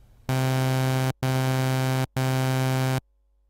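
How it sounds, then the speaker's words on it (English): A Sylenth1 synth oscillator set an octave down from an initialized patch plays a low, buzzy, harmonically rich tone three times in steady held notes, each cut off by a short silent gap. "set the first oscillator to -1 octave for a low tone so it sounds like this"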